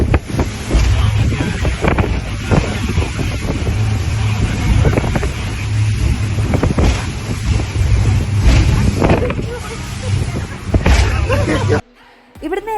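A boat crosses the sea toward Coral Island, Thailand, with constant roaring engine and wind noise throughout, while a person talks over it; the rumble drops briefly near the end.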